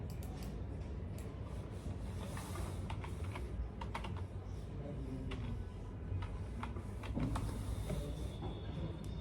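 Keyboard typing of a search query, a steady run of light key clicks over a constant low background hum, with no talk during the typing.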